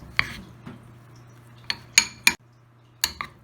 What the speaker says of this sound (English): we're just going to go ahead and stir that up